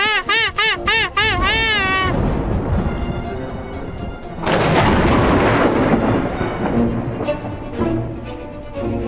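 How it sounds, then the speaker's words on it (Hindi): A lightning strike lands nearby in hilly country and the thunder rolls in as a loud, sustained rumble that swells again partway through and echoes off the hills, with warbling tones at the start. "बिजली हमारे ऊपर गिरते गिरते रह गई है ना? तो पहाड़ों से आवाज आ रही थी"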